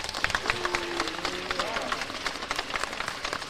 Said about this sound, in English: we need to give them a big round of applause just for this major accomplishment